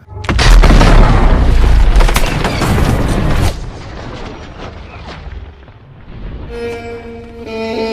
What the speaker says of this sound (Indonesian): Watson pun tak sengaja menginjak ranjau yang membuat mereka bertiga harus terkena ledakan